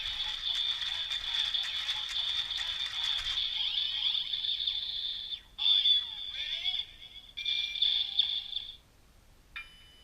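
A Kamen Rider Build Driver toy being cranked, giving a high electronic whine with mechanical ratcheting clicks that stop and restart in short bursts, fairly quiet and near.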